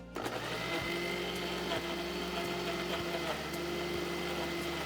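A mixer grinder whirs steadily at close range blending boiled tomatoes, its motor droning and buzzing without a break, with faint rhythmic knocks as the contents churn.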